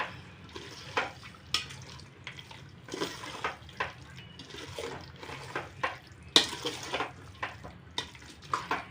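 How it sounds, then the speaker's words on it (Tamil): Chicken being turned and stirred with masala in a pot for biryani, giving soft wet scraping and clanking strokes that recur irregularly at moderate loudness, with no talk. "இப்போ வந்து இந்த மசாலாவோட இந்த சிக்கனை வந்து நல்லா பரட்டி விடுங்க."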